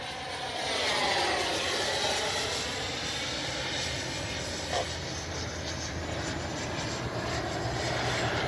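Twin 64mm electric ducted-fan RC F-15 jet passing overhead in a steady, loud whooshing roar that swells and holds for several seconds, with no voices.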